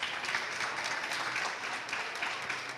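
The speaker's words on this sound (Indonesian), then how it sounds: "Tepuk tangan dulu untuk Kakak Wibi." Applause for a deputy speaker of the Jakarta regional parliament, steady crowd clapping throughout, moderately distant and fairly soft in a large room.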